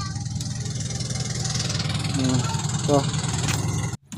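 A boat fitted with two engines but running on only one, a steady motor drone holding a low rumble throughout, with people talking over it.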